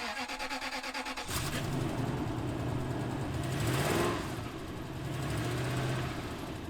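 A first-generation Toyota Tundra engine with a cracked exhaust manifold runs with a rapid, uneven fluttering puff, which swells louder under heavy throttle before easing back. The sound is close and continuous.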